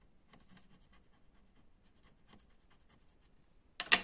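A bone folder rubs double-sided tape down onto a ribbon bookbinding structure, making faint, soft, intermittent scraping strokes that end in a brief, sharper burst.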